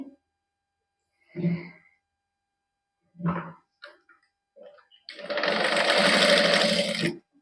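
A sewing machine stitches a neckline on a garment, running in one steady loud burst of about two seconds near the end after several short handling noises and quiet gaps.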